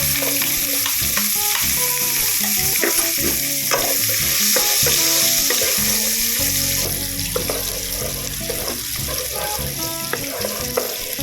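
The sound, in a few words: sautéing garlic in oil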